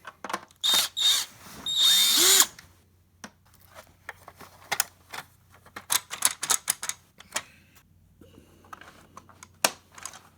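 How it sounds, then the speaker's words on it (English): A trusty cordless drill whirs in two loud bursts at close range while servicing a Black and Decker Air Swivel vacuum, followed by scattered clicks and handling knocks. "So I got my trusty drill here."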